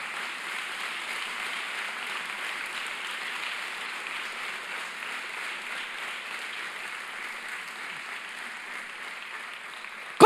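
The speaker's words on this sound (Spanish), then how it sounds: "¿Por qué no hace un fuerte aplauso a Jesús por eso?" A church congregation at a Sunday service applauds steadily, producing a continuous, even hiss of many distant hands clapping with little variation, ending in a sudden sharp noise at the very end.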